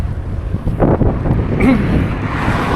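Wind gusting outdoors at sunset during an evening walk or run, buffeting the microphone with a steady low rumble, with brief faint voices and movement noises in the background.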